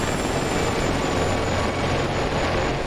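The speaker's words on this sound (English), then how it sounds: "a real beefcake of a Soviet helicopter with twin fuselage 30mm cannon" A Soviet Mi-24 gunship helicopter in the DCS flight simulator, its twin-turbine engine and rotor giving a loud, steady, dense roar with a faint high whine, constant throughout with no talk.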